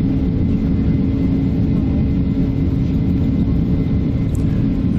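Airliner engines during the takeoff roll, a loud, steady low rumble that fills the cabin without pause and without voices.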